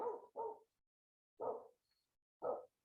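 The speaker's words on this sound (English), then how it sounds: "Neighbor dogs are talkative this morning." Neighbourhood dogs barking outdoors in the morning, a quick double bark followed by two more single barks spaced about a second apart, moderately distant and clear against quiet.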